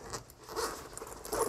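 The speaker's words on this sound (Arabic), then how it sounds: "ودي السوستة اللي في المنتصف" The middle zipper on a compact Arctic Hunter K00688 shoulder bag is worked with short, soft ratcheting rasps in a few quick bursts, heard up close in a quiet room.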